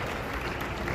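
Dense, steady audience applause fills a full second at a Morari Bapu Ram Katha lamp-lighting ceremony in Rajkot, many hands clapping together at even loudness with no voices on top.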